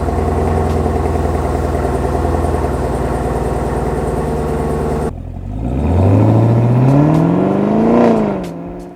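Camaro ZL1 V8 fitted with 2-inch headers, a loud rumbling idle that breaks into a sharp rev climbing and holding high before falling back.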